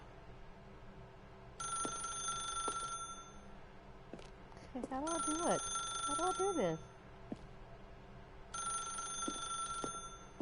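A telephone rings in The Stanley Parable, sounding in three bursts of a steady electronic trill with pauses between them. Someone talks over the middle stretch, close and clear.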